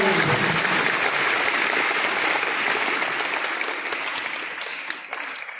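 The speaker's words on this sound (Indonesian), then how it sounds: "Tepuk tangan" A crowd at a national seminar in Lampung, Indonesia, applauds steadily with dense, continuous clapping that gradually thins and fades toward the end.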